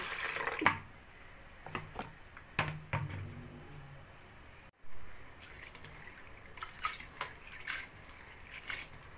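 Chana dal lentils being rinsed in water in a bowl by hand: splashing, swishing and dripping sounds in irregular bursts separated by quieter pauses, close and fairly soft, with no talk.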